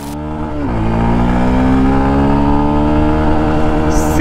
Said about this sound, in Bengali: ব্রেক করার সাথেই কিন্তু বাইকটা দাঁড়িয়ে যাচ্ছে।